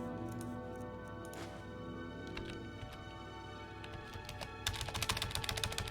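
Computer keyboard keys tapped in quick, irregular clicks while a Skyrim stream plays, then a denser burst of louder presses near the end over a steady game background.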